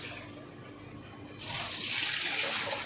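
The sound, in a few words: water being poured into cooking pot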